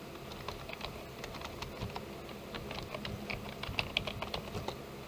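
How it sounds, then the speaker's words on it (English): Steady clicking of keys on a computer keyboard, close and continuous, with irregular bursts of keystrokes and no voices. "Then you start typing."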